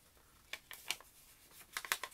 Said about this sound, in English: Some more crinkly paper.